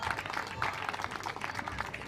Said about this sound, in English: the fans in the crowd rightfully applauding both of these athletes